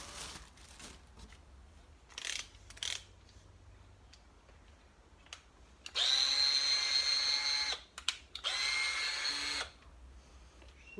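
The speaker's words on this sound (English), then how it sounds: "So there you go, there's the drill." A Hyper Tough single-speed 20-volt cordless drill whirs in two short high-pitched bursts of a couple of seconds each, close and loud, after some quieter handling clicks and rustles.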